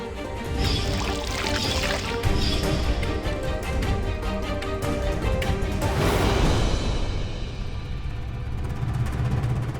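Water poured into flour for roti dough, a steady continuous pour and splash running close and fairly loud for the full length, with a brighter gush near the middle and no talking.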